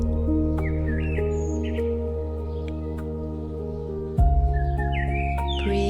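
Spring birds chirp and call in short bright phrases over a sustained low musical drone, the calls scattered and moderately faint against the steady tones.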